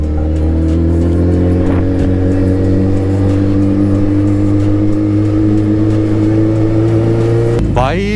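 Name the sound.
Suzuki Hayabusa motorcycle engine revving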